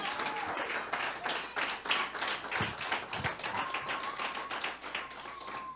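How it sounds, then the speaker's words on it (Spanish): A church congregation claps steadily through a Christian leadership workshop, dense continuous applause filling the room from start to finish, with a faint tonal whine drifting over it. "Dale un aplauso a Dios."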